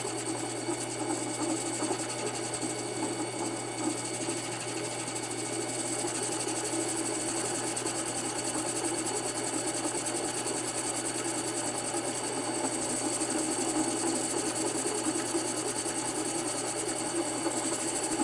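A 7x10 variable-speed minilathe bores through the center of a washer with a steady, continuous whine and cutting rasp, running evenly at close range with no talk.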